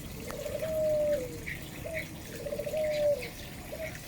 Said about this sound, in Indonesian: Itu ada perkutut goldennya masih jalan-jalan.